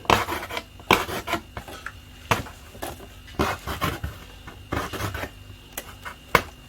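Repeated sharp scraping and clattering as air holes are punched into a plastic worm-farm box, irregular bursts of hard plastic noise close by, with no talking.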